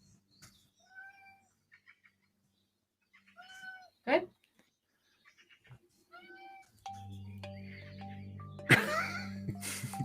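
A cat meows repeatedly in short, separated calls, fairly near and clear, followed by a louder rumbling and rattling noise at the end; a person briefly speaks.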